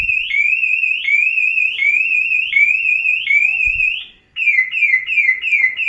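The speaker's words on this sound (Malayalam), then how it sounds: "ഇനി അലാം അടിക്കും. ഇതാ അലാം അടിച്ചു." A Suzuki car alarm set off remotely through Suzuki Connect blares nearby, a loud repeating electronic warble in rapid cycles that pauses briefly, then resumes in a slightly different pattern.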